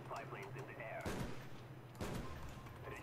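Two sharp sniper rifle shots in the Black Ops video game, about a second apart, each a loud crack with a short decaying tail, over background game noise and faint talk.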